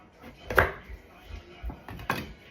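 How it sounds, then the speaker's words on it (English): A knife cuts open a pumpkin on a cutting board, giving a few sharp, close chopping knocks and thuds at uneven intervals with quieter scraping between them. "the first thing that we do is we're gonna cut open this pumpkin"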